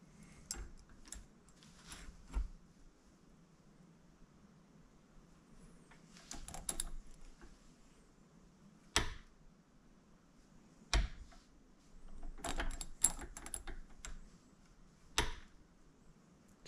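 Harbor Freight Pittsburgh click-type torque wrench being calibrated, giving sharp, isolated clicks and small clusters of clacks spaced irregularly across a quiet background.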